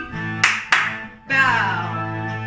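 Two sharp hand claps from children in an elementary music class dancing an Irish polka, the claps quick and close together amid a sustained musical backing.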